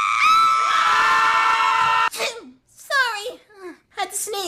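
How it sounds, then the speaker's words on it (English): A cartoon character lets out a sneeze, a sharp burst that breaks off a long sustained musical tone, followed by short animated voices talking in quick bursts. "Had to sneeze."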